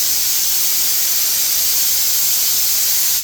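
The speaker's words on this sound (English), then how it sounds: "I'm going to let some air out." Air hisses steadily out of a Harbor Freight air compressor in a garage, a loud, continuous broadband rush lasting a few seconds with no talk over it before it cuts off.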